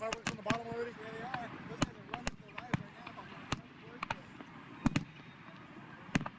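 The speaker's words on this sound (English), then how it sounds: "Did they blow up all the fireworks on the bottom already?" Fireworks exploding during a firework fail: sharp, scattered bangs and pops at irregular intervals, some quite loud, with crackling between them, under a faint voice talking.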